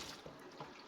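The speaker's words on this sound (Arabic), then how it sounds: "هبدأ بقى ايه اشطف كل الحيطة اللي عند الحوض دي" Tap water runs at a kitchen sink as the wall beside it is rinsed, a faint, continuous splashing flow.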